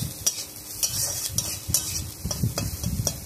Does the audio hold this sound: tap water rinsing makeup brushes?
no